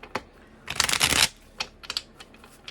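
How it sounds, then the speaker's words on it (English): A short burst of tarot cards being riffled and shuffled, framed by a few soft taps and flicks of handled cards, close and quiet. "Let's get some tarot. And let's shuffle."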